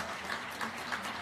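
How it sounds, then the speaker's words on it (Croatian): Many hands clap steadily from apartment building balconies in Novi Sad's Detelinara neighbourhood in support of health workers, a faint, distant wash of applause. "Zapravo kreću aplauzi i podrška zdravstvenim radnicima"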